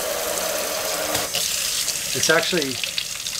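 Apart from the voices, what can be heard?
hot water running from tap with inline water heater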